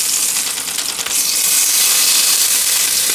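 Chicken fries steadily in a pan on an induction cooktop while being flipped, giving a loud, continuous close sizzle with a brief dip and shift partway through before the hiss swells back to full strength.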